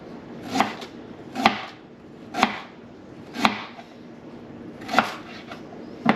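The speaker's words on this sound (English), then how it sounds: "I'm going to cut very thin slices, probably 1/4 inch, 3/16 of an inch thick" A kitchen knife chops very thin slices, likely of freshly caught haddock or cod, in a slow, regular series of crisp cuts against a board, close and alone, about one cut per second.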